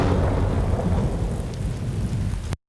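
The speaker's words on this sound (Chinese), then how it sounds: "就是一个打雷的一个声音。" Rumbling thunder with heavy rain, a sound effect mixed for 5.1 surround, rolls as a dense continuous roar at steady loudness for over two seconds, then cuts abruptly to silence.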